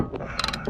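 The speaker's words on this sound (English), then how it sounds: "so it ratchets both pistons in at the same time" Brake caliper piston tool on a Subaru Outback ratcheting both pistons of a dual-piston caliper back in at once, a short close burst of rapid metallic clicks.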